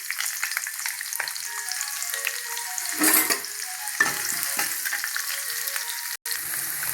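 Fennel seeds and onion frying in hot oil for a Tamil radish vada kuzhambu, a steady close sizzle with a brief louder burst of crackle partway through, and no voices.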